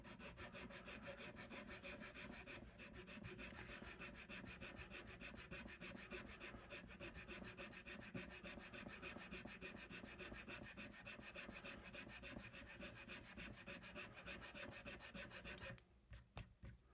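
A wooden ship mast being shaped by hand from a single block, a steady fast rasping scrape of the tool on wood that runs continuously and stops near the end, close and quiet, with no talking.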